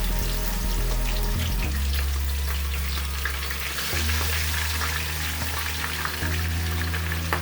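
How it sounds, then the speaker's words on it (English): Fish frying in hot oil, a loud continuous sizzle and crackle with a low steady hum underneath, close and unbroken throughout. "my oil is ready, and I'm gonna just put the fish in the oil"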